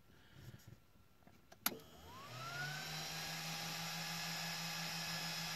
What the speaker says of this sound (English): You kick the key on and you can hear the fan start up in the back of that